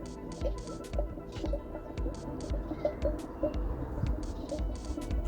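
Coolant gurgles and glugs down into the freshly rebuilt engine of a Reliant Supervan, a close, irregular series of bubbling pops and drips that continues steadily throughout.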